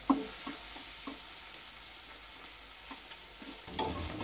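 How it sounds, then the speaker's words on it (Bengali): Onion fries in hot oil in a kadai while being stirred, giving a steady close sizzle broken by occasional scraping taps of the spatula, with no talking. "পেঁয়াজটাকে এভাবে একটু ভালোভাবে এবার ভেজে নেব।"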